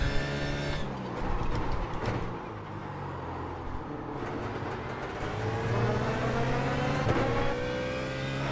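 A BMW Z4 GT3 race car in the iRacing game at Zolder circuit drones with a steady engine roar and rising, falling gear tones as other cars run close by, continuous and loud with no talking.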